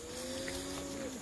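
Cattle moo in a single long, close, steady bellow during a road drive of a whole mob of cattle to another farm, with outdoor background noise and no talking.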